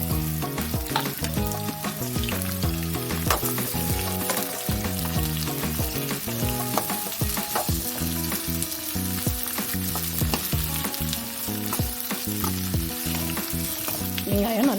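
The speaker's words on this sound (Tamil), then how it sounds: "வெங்காயம் நல்லா பொன்னிறமாக வதங்கட்டும்." Two large onions sizzle and fry steadily in a pan while paneer lababdar is prepared, a dense continuous crackle with occasional stirring scrapes, close and loud throughout, no talking.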